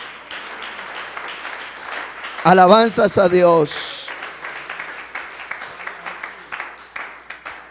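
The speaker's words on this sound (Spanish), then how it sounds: "Dele fuerte ese aplauso al Señor." A church congregation bursts into clapping during a sermon, a brief shout of praise rising over the start, then rhythmic, fairly close applause carrying on steadily to the end.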